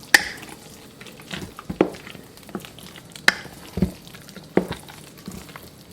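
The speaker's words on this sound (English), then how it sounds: "Let's stir that in." Nutmeg stirred into banana ginger bread pudding batter in a bowl: a sequence of soft, wet squishes and occasional sharp spoon taps against the bowl, spaced irregularly about every half second to second, close and fairly quiet.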